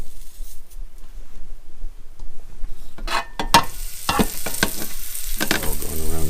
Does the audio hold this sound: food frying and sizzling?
yes